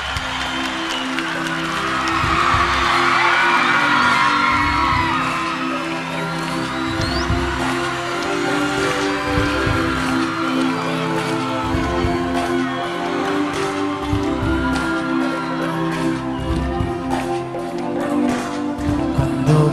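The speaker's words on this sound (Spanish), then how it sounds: "Un aplauso para las bailarinas," A large outdoor concert crowd in Mexico City's Zócalo applauds and cheers for the dancers, a broad wash of clapping and shouting with music tones underneath.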